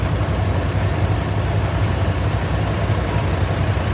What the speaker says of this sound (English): Perkins 4-cylinder diesel engine